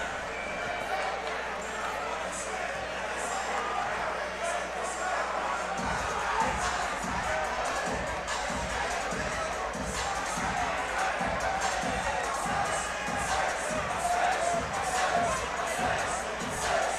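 A school gym crowd roars steadily before tip-off at a boys' varsity basketball game between Salesianum and Tatnall, with dense cheering and shouting throughout and rhythmic stomping or clapping beats joining in about halfway.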